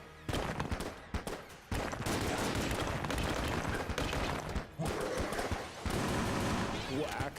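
Rapid weapon fire from the rad gun in the roguelike shooter Enter the Gungeon during a boss fight, a dense, continuous barrage of shots with brief gaps, loud and busy, with speech mixed in.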